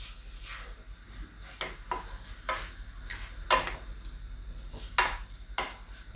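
Raw turmeric root roasts in ghee in a pan while a spoon stirs it, giving a soft steady sizzle broken by about eight sharp scraping strokes spaced a second or so apart, heard close up.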